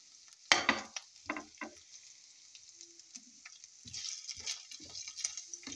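Flaked chicken tossed into hot oil with white radish, sizzling and crackling in a pan with bursts of stirring and scraping, a steady frying hiss underneath.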